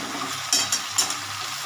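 Stirring food in a cooking pan while making fish-head and Malabar spinach chorchori, three quick metallic scrapes over a low background sizzle, brief and fairly close.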